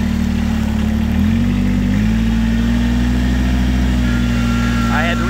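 Kubota BX1880 compact tractor engine runs loud and close with a steady low drone and a slight shift in pitch, while someone talks over it.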